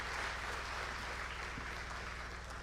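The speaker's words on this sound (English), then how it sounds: "Keep clapping for the youth minister." An audience at a youth empowerment summit in Nigeria applauds after a speech, giving a faint, steady spread of clapping over a low, constant hum.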